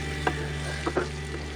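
Steady sizzling of okra frying with onion in mustard oil, with a few soft stirring scrapes.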